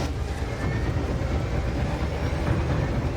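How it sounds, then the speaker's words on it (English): A full-size passenger locomotive hauling five carriages rolls out of a city, a continuous low rumble and rattle of wheels and engine, steady and close with no talk. "As the loco moves out of the city"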